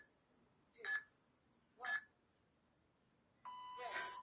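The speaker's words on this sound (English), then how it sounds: "Beep." A workout timer gives two short, evenly spaced electronic beeps, then a longer final tone. The beeps are clear and fairly close against a quiet background.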